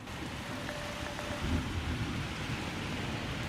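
Steady rain falls over Paris during an evening live outdoor report, a dense, even hiss with low rumbling underneath that holds constant throughout, with no voices heard.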